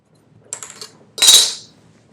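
Scissors cut through the denim waistband of a pair of jeans with two crisp, close snips, the second louder and longer, in an otherwise quiet room.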